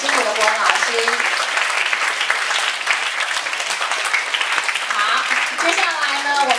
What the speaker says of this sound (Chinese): 请以热烈掌声谢谢这五位辛苦的国文老师